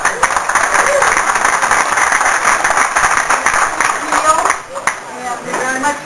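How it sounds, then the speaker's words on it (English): Guests at a volunteer dinner give a full round of applause, a dense, steady wash of clapping from a roomful of people that briefly dips near the end before continuing. "give Brian Mall and his assistant Margot a round of applause"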